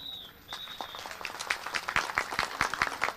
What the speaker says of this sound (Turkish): Alkış yapan elleriniz dert görmesin.